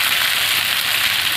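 Water hits a pan of frying jackfruit and potato curry, giving a loud, dense hiss of sizzling steam that holds steady and close for a brief moment.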